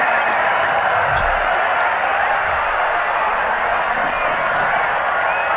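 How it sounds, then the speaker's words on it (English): A very loud, dense crowd roars continuously at a rallycross event in the DiRT 4 racing video game, a steady wall of cheering noise with faint low thumps underneath. "Oh wow, the crowd. The crowd is way too loud."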